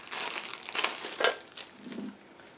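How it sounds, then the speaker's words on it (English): A plastic bag holding the body of an Aoshima 1/24 Lamborghini Huracan model kit is opened with scissors, giving a few short close crinkles and snips over about two seconds. "So I need again to use scissors in order to open this bag."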